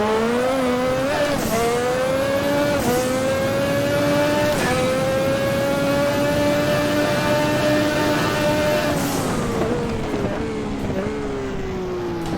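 A turbocharged racing car engine in a sim racing game holds a loud, steady drone, its pitch climbing and then dropping sharply at several gear shifts.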